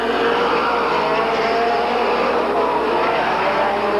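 Race cars lapping a 1985 speedway oval in the closing laps of a race, a continuous loud engine roar that holds steady throughout, with no one speaking.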